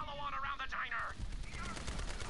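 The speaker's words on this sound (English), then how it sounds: "it's a machine gun that doesn't like aiming correctly" Automatic machine gun fire in the shooter game Borderlands 3, a voice briefly heard first, then a loud, rapid, continuous stream of shots.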